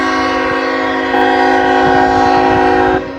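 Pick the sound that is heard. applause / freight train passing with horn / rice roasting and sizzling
freight train passing with horn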